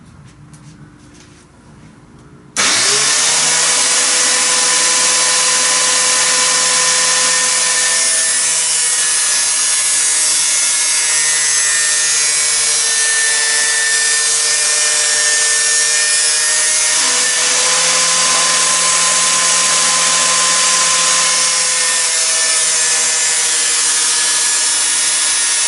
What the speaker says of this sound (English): cheap angle grinder I bought second hand